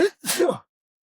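A single sharp sneeze, close and fairly loud, with a quick intake burst before the main explosive release and then silence.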